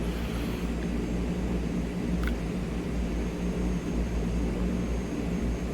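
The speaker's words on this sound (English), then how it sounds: "taxi light on, landing lights off. And we're just taxiing back." A Canadair CL-415 taxiing in Microsoft Flight Simulator 2020 gives a steady, moderate engine drone with a low rumble, constant and alone.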